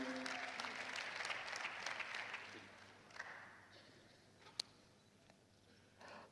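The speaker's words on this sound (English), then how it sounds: "Let's give them a big round of applause," Audience clapping at a national student enterprise competition in Zimbabwe, a dense round of applause that gradually thins out and fades, with a few scattered late claps near the end.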